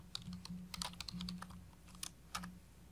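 Quick, light keystrokes tap on a computer keyboard in short irregular bursts, close and fairly quiet, over a low steady electrical hum.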